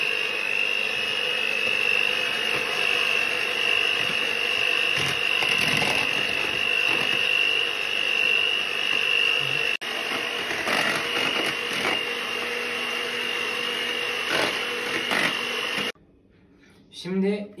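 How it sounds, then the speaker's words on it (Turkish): An electric hand mixer whirs steadily through cocoa cake batter made with yogurt and oil, a loud, continuous motor drone with slight shifts in pitch before it cuts off near the end. "Burada mikserle karıştıracağız."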